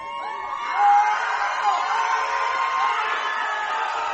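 Large crowd of Lake Howell Silverhawks and Winter Springs Bears high school fans at Gators Dockside in Winter Springs, cheering and whooping together in a steady, lively roar with one louder swell.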